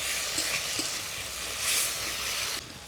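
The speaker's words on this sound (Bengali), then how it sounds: "এবারে টমেটো কুচি আদা রসুন বাটা ভালো করে কষিয়ে নিতে হবে" Tomato pieces and ginger-garlic paste sizzle steadily in a pan while a spoon stirs them, giving a close, continuous frying hiss with soft scraping strokes that cuts off near the end.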